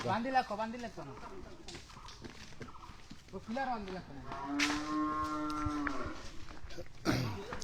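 A very large bull weighing about 16 maund, offered for sale, lets out loud, sustained moos near the microphone, with someone talking before and around the calls.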